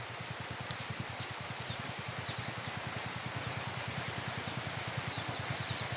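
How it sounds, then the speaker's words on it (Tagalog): Heavy rain falls in Mindanao during flooding, a dense, continuous patter with a rapid pulsing rhythm, steady and close, with no voices. "Grabe yung ulan ngayon."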